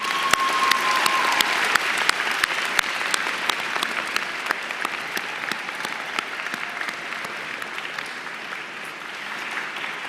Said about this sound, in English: Let's clap in case they're watching us online.